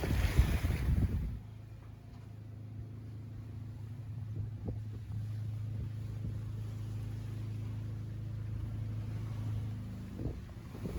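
Ocean waves wash around a sailboat offshore on a passage from the Chesapeake Bay to Hilton Head, South Carolina, under a steady low rumble of wind and water with a faint constant drone.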